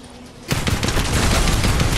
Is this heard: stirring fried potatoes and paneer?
no